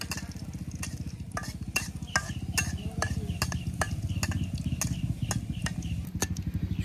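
Dried red chillies fry and are stirred in hot oil, giving a steady sizzle with a regular run of sharp scraping strokes from the utensil against the pan, close and alone.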